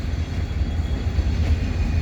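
Wheeling & Lake Erie freight train pulled by EMD locomotives and hauling hoppers, rumbling steadily past in the evening on jointed rail, with a loud, continuous low roar and no voices.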